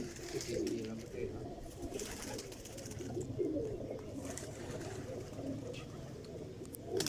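Pigeons coo repeatedly in soft low rolling calls on a rooftop during pigeon flying in Sialkot, fairly close with faint background noise and some people talking.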